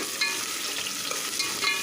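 Onions sizzle and fry in a pan for Indian home cooking with ginger-garlic paste, a close, loud, steady crackling hiss with no talk over it.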